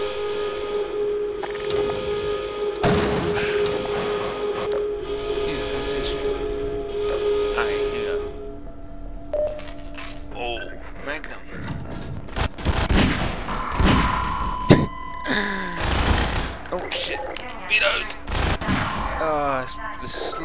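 Gunfire in the Half-Life 2 video game: loud bursts of rapid shots and sharp single blasts, clustered and irregular, with mechanical clicks between volleys and a player talking faintly at times.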